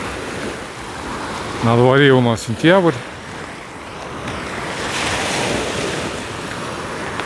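Waves wash steadily onto a beach on the southern shore of the Sea of Azov in September, a continuous surf roar with wind buffeting the microphone, briefly interrupted by someone speaking.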